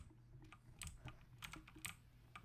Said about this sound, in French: Moi j'entends surtout ton clavier en fait.